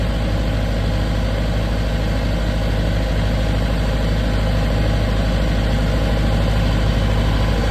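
A 40 kVA diesel generator set runs steadily at idle, a loud, constant low rumble and vibration nearby with no change in pitch and no talking.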